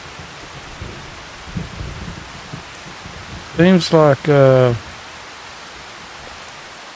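Rain in the farming game Farming Simulator 25, a soft continuous hiss of falling rain with faint low rumbles underneath, while someone talks briefly partway through.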